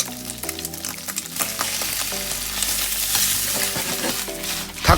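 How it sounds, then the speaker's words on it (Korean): Eggs stir-frying in a hot stainless steel pan: a continuous loud sizzle with scraping and clinking from stirring, close up, growing stronger toward the end, no voices. "계란을 이렇게 볶아 주시고"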